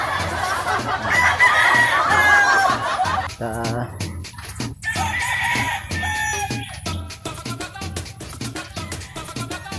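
Fighting roosters and chickens kept by a gamecock handler cluck and call near and far, with crowing early on, while someone talks and laughs over them.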